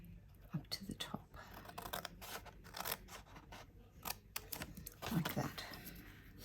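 Scissors snip through paper to form a half-cracker gift box, a quick run of close, crisp cuts in an uneven rhythm, with faint talk in the background.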